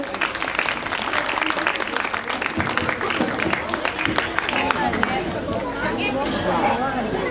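An audience at a Shivaratri children's skit performance claps steadily amid chatter and crowd murmur, with voices talking over the applause throughout.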